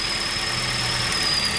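A car engine idles roughly during an ignition-coil misfire test, a steady loud drone with a thin high whine on top and no talk.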